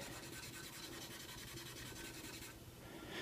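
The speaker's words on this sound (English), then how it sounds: "Scrubbing this." A soaked cloth or brush scrubbing retro computer gear during cleaning, a steady, faint rubbing that continues without a break and shifts slightly near the end, with no voices.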